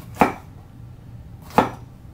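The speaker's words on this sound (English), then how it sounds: "we're going to cut these up now and cut them up into about 1/8 rings" A sharp knife chops through vegetables, slicing them into thin rings on a board: two crisp, evenly spaced cuts about a second and a half apart, close and clear, with no talk.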